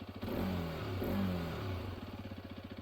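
A Hero Xpulse 210 motorcycle engine is revved twice in quick blips close by, then drops back to a rhythmic, pulsing idle, moderately loud.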